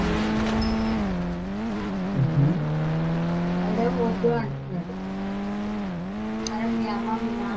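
A car pulls away in the Indian Bike Driving 3D video game, its steady engine drone rising and dipping in pitch as it revs and shifts, loud and continuous, with a voice talking over it.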